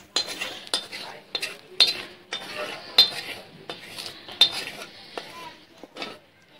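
A cooking pot of hilsa fish head curry (muri ghonto) is handled on a stove, with repeated clinks and scrapes of metal utensils against the pot in an irregular rhythm, close and moderately loud.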